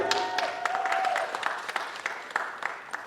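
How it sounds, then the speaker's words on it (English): A crowd at a pep rally at City Hall applauds and cheers for young track athletes, with dense steady clapping that thins into scattered claps, plus faint voices and a brief tone early on. "Everybody cheer for these young people."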